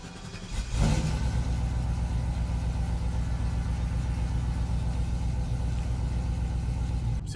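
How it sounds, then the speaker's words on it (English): Cammed 5.3 V8 in a single cab truck cranking briefly and catching, then settling into a loud, choppy, lumpy idle close by that continues steadily to the end. "All right, so right now, just go ahead and start her up."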